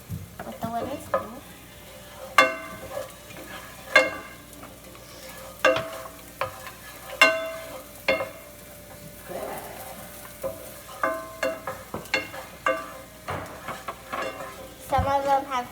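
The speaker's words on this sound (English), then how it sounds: "just keep them stirred until they're about yellow" Onions fry for chili, stirred with a wooden spoon. Repeated, rhythmic scrapes and knocks against the pan sound close and clear over a continuous sizzle.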